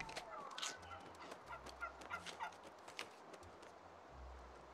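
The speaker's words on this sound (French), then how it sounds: "Il y a plein de dindons qui traînent dans le coin," Several turkeys gobble in quick, rattling bursts in the video game New World, fairly faint, over a low background rumble.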